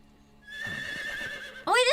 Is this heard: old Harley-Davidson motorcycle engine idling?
no